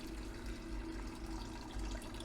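Rinse water from a silver crystal harvest is poured into a waste jar, giving a steady, faint trickling and gurgling stream that runs unbroken for a couple of seconds with no talking.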